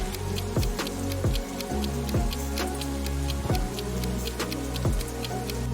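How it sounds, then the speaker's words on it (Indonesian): Rain falls steadily with dense drop patter and sharp ticks hitting a surface, close and continuous with no talk. "mereka harus segera pulang karena hujan mulai turun"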